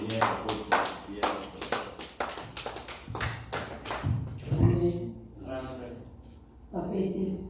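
A church congregation at a funeral service claps in praise, with rhythmic clapping at first that breaks into scattered applause, mixed with voices and singing.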